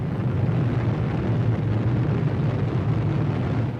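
Deep, sustained rumbling roar of the Trinity atomic bomb test in the New Mexico desert, 1945, a steady loud low-heavy blast wash lasting throughout without pause.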